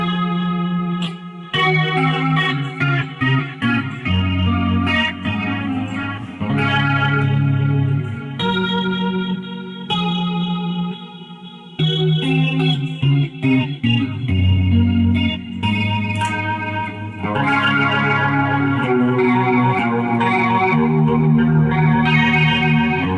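Electric guitar played through a BOSS eBand with a delay, live tone: loud, sustained distorted riffs and chords with echoing repeats trailing behind, a brief pause near the middle, no talking.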